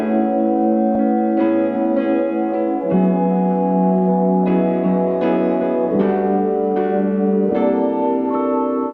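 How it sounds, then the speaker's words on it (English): A Prophet synthesizer layer plays sustained, bright chords that change every second or so, steady and loud with no voices. "All right, got this pretty nice Prophet sound."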